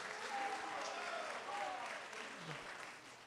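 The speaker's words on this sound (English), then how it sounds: "Please hold your applause." Audience clapping at a California 13th Congressional District debate, a moderate, steady round of applause that fades gradually, with voices mixed faintly underneath.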